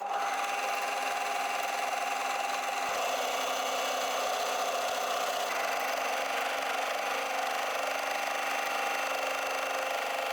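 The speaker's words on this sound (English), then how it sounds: "I'm going to stretch the fabric from the front and from the back with my hands as I put it through the machine." An overlocker (serger) runs continuously while sewing a lettuce hem on stretched fabric, producing a steady, close mechanical whir and rattle with no pauses.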